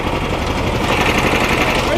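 A 13hp longtail engine on a flat-bottom boat chugs steadily on the river, a continuous close, loud running drone with a fast knocking pulse and no break in the noise.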